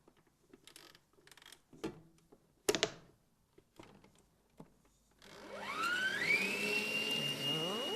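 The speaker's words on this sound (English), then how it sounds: "So it whisks for quite a while, eh? Yeah. So until it is fluffy." An electric mixer whisks red velvet cake batter until fluffy, starting after a few scattered clinks and knocks with a steady motor whir and rising pitch sweeps as the beaters spin up, close and fairly quiet.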